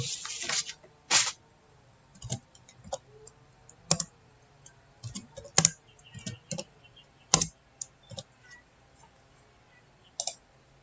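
Keys tapped on a computer keyboard while entering a SPICE directive for a transformer in LTspice, a quiet, irregular run of sharp clicks in short bursts with small pauses between them.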